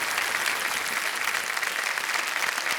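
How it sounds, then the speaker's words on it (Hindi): Studio audience applause on a television quiz show, a steady, loud wash of many hands clapping that holds evenly throughout without a break. "तालियों के साथ इनका हम अभिनंदन करते हैं"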